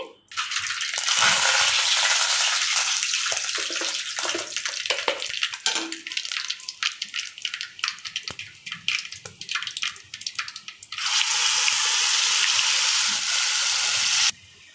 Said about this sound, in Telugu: కొంచెం ఆవాలేసాను ఫ్రెండ్స్ తిరగమాతకి